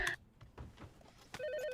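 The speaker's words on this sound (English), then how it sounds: "The phone has been ringing all morning." A telephone rings in an office setting, with a short burst at the start and another electronic ring near the end, loud and close against faint room noise.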